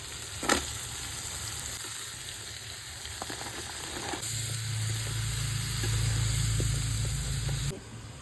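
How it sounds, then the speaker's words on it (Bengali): Vegetables drop into hot oil seasoned with turmeric and salt in a home kitchen, giving a steady frying hiss that swells into a louder sizzle partway through, close by with a faint low hum underneath. "লবণটি ভেজে নিচ্ছি নুনটা দিয়ে দিচ্ছি এবার সবজিগুলো দিয়ে দিচ্ছি"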